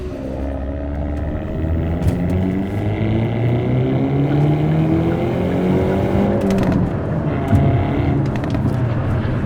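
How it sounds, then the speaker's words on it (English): A 2025 Hyundai Elantra N engine revs and growls loudly and continuously, its exhaust note rising and falling through several throttle blips with rev matching and exhaust valve open. "Not only with the exhaust sound, which you probably just heard."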